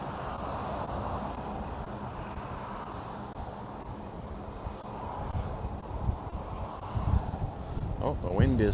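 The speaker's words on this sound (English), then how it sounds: "Oh, the wind is picking up. I'm sure that's having a sucky effect on the microphone." Wind buffets a microphone outdoors beside a highway, a steady low rumble that swells toward the end, with traffic noise underneath.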